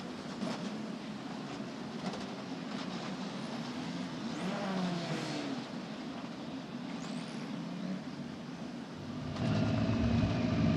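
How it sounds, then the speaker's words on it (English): Formula 4 race cars in an Italian F4 Championship race at the Paul Ricard circuit roar past, a steady engine drone with rising and falling passes and a louder surge near the end, no voices. "Gabriel Holguin for the Murphy Racing Team brings it home with a straight car"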